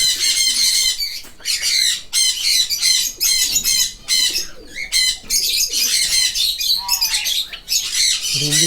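Pigeons in an aviary fill the air with loud, dense squawking and cooing chatter, calls overlapping almost continuously at close range.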